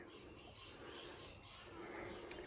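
Birds chirp outdoors in faint, repeated short calls over a soft background hiss, with one sharper high peep near the end and no one speaking.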